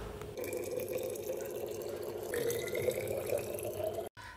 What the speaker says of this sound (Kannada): ಫ್ಲಾಸ್ಕಿಗೆಲ್ಲ ನೀರು ತುಂಬಿಟ್ಟು